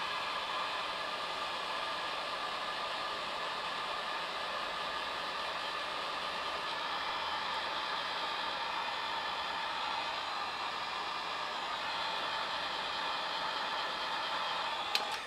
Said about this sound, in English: I'm going to take my hair dryer really quick